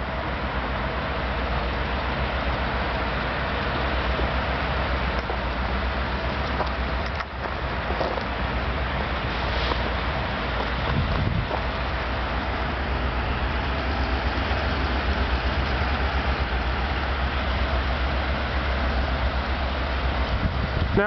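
Steady, loud low-frequency rumble of a CN freight train locomotive idling and moving through a rail yard in Burlington, Ontario, continuous throughout with no talk.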